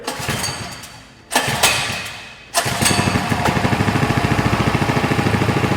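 A Coleman CT100U mini bike engine is cranked twice with short bursts, then catches and settles into a loud, close, steady rapid putter, no talking over it.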